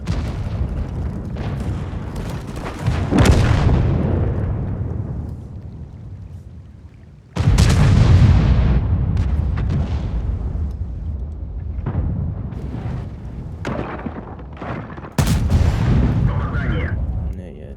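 Three heavy tank cannon shots in World of Tanks, each a loud sharp boom trailing into a long rumbling decay, spaced several seconds apart.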